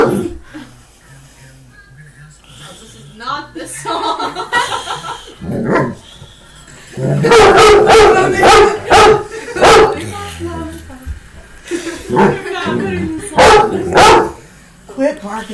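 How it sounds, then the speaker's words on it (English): A Vizsla dog barks loudly near the microphone in repeated bursts of sharp, harsh barks, with quieter whines and yips between them and a person talking now and then. "Quit barking so loud. You're hurting my ears."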